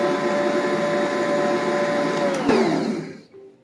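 An electric mixer whirs through cake batter with sugar for an old-fashioned coconut cake, a steady motor hum that drops in pitch and winds down to silence near the end.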